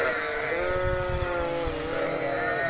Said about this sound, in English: Some sheep by the river drinking water.